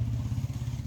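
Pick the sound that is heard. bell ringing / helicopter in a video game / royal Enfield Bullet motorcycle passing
royal Enfield Bullet motorcycle passing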